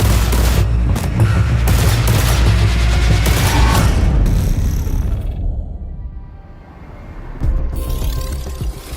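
Rapid gunfire from a D54 battle pistol in the Marathon video game, loud and continuous bursts through most of the clip with a lull near the end before another burst.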